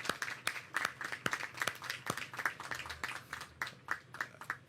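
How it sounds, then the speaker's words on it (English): Applause from a small crowd at a New York City small business event, fairly faint and sparse, individual claps clearly separated in an uneven rhythm. "Let's give them a warm round of applause"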